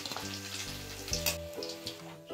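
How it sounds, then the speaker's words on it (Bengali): Cheesy fish balls fry in hot oil, crackling and sizzling up close, with a few soft clinks and scrapes as they are turned and stirred. "উল্টে পাল্টে নাড়াচাড়া করে বলগুলোকে ভেজে নেব"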